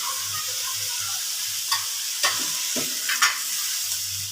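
A spoon stirs vegetables frying in a pan with a splash of vinegar, giving a soft steady sizzle with a few scraping strokes and clinks, close by and without talk.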